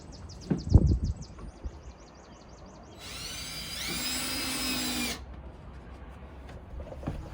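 A power driver runs a screw into a deck ceiling board, a single high whirring burst lasting about two seconds, with faint outdoor birdsong before it.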